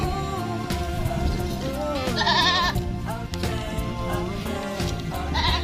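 Several young Anglo Nubian goats bleat repeatedly, loud and close, their cries overlapping in a noisy pen.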